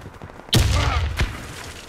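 A loud grenade blast with gunfire bursts from the shooter video game Warface erupts suddenly and stays dense for over a second, followed by a second sharp report.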